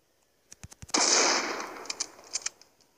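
A few sharp M14 rifle cracks in the game Critical Ops ring out in quick succession, followed by a loud blast that decays into scattered fainter pops.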